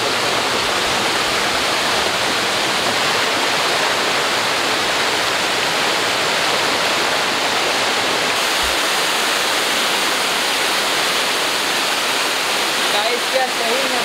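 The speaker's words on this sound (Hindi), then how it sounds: "गाइस हम लोग नदी के बहुत करीब पहुंच गए।" A river rushes close by in a jungle, its loud, dense, continuous roar of flowing water filling the scene steadily throughout.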